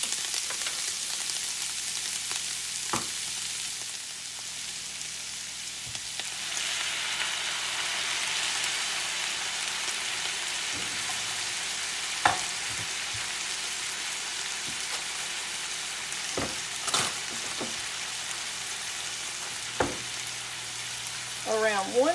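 Tomato sauce goes into a hot pan and sizzles steadily throughout, with a few sharp clicks and scrapes of utensils scattered through it.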